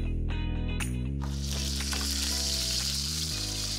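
Pork tenderloin searing in a hot pan, a loud continuous sizzle close by with steady hiss and crackle layered over a low background hum.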